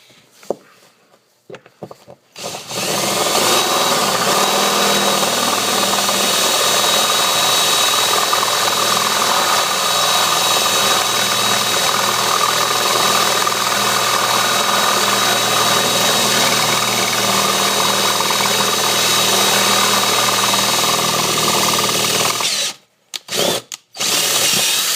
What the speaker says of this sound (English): going to drill a 1/4-inch hole on either side now that I've got the other 4 holes plugged